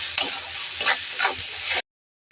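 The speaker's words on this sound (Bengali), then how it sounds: "আলুটা দিয়ে এটাকে ভালো করে কষিয়ে নেব" Boiled potato filling for a patishapta roll is stir-fried in a pan: several scraping stirring strokes over a steady sizzle, fairly close. The sizzle stops abruptly into silence, then resumes briefly at the end. No one speaks.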